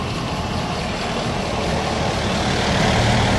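Heavy road traffic rumbles past a cyclist riding a road bike, a loud, continuous engine roar and tyre noise mixed with wind rush, swelling as vehicles draw close.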